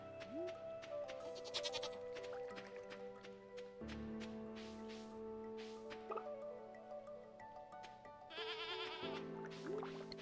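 Goats and sheep in the Stardew Valley video game bleat several times over layered game music and chiming effects, close and clear with no talking.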